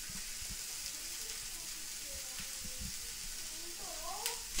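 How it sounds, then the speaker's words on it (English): Vegetables sizzle steadily in a hot pan while being stirred for quesadilla filling, a continuous close frying hiss with a few soft utensil scrapes and clicks near the end. "Gonna give it a little bit of stir"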